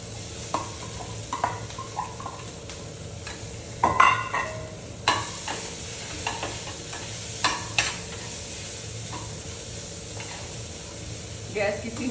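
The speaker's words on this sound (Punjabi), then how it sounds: "ਤੇ ਥੋੜੀ ਜਿਹੀ ਹਲਦੀ ਜ਼ਰੂਰ ਪਾਉਂਗੀ ਮੈਂ ਕਿਉਂ ਮੈਂ ਸੇਕ ਲਵਾਉਂਗੀ ਪਹਿਲਾਂ ਥੋੜਾ ਜਿਹਾ" Turmeric being roasted in a hot pan and stirred, a steady low sizzle broken by light scraping and clinking of a utensil against the pan, with a few louder knocks, quiet and close.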